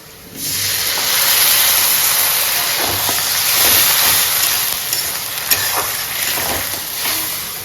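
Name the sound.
ginger garlic paste sizzling in frying onions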